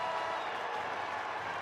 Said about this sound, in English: Crowd getting on its feet.